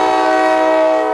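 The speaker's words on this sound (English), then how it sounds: "Heart-stopping surveillance video showing the moment a New Jersey Transit train plowed into an SUV in River Edge." A New Jersey Transit train at a road crossing in River Edge, Bergen County sounds a loud, sustained horn blast that holds steady from start to finish, with no voices.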